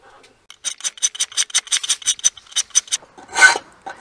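Steel knife blade stroked across sharpening stones in a quick run of short, even rasping passes, about a dozen in steady rhythm, with one longer, louder scrape near the end.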